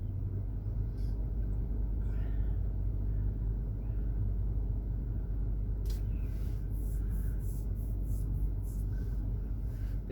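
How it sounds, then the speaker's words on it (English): A big black truck on motor tires drives past on a road in Destin, Florida, a steady low engine rumble close by, with light traffic noise around it. "Big black truck there with motor tires."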